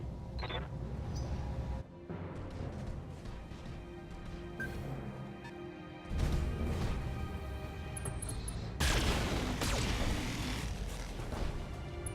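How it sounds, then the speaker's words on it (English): Explosions in the mech combat video game Battletech Flashpoint, heavy booming blasts and crashing impacts layered over a continuous rumbling battle din, loud and close. "Explosions occur."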